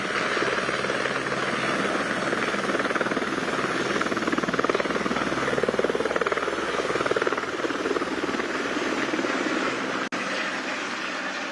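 A helicopter takes off at Govindghat on a five-minute pilgrimage shuttle ride. Its loud, continuous rotor and engine roar stays steady and close throughout, with no voices over it.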